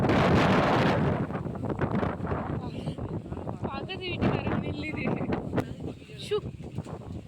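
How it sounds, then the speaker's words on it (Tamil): Strong wind buffeting the microphone out in open farm fields, loud gusty roar at first then lighter rushing, with someone talking over it throughout. "ஃப்ரெண்ட்ஸ், பார்த்தீங்களா எவ்வளோ காற்றடிக்குதுன்னு?"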